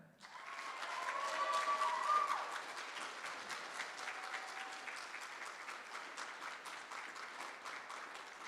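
A room full of people applauds at a school band and choir banquet after an award announcement, dense sustained clapping that swells in the first couple of seconds and then continues steadily.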